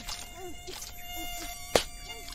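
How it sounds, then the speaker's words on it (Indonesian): A swarm of mosquitoes whines in a cartoon scene, thin buzzing tones rising and falling continuously at low level, with a sharp brief knock partway through. "Ish, banyaknya nyamuk."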